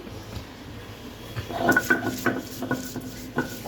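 Onion being ground into a fine paste on a stone slab for a prawn cutlet masala, giving close, rhythmic scraping and rubbing strokes that start after a quiet moment and repeat steadily.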